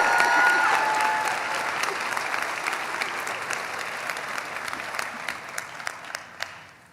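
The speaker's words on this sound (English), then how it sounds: "So, give her a big round of applause." An audience claps loudly and steadily at a Master of Social Work pinning and hooding ceremony, with the applause gradually thinning and fading out toward the end.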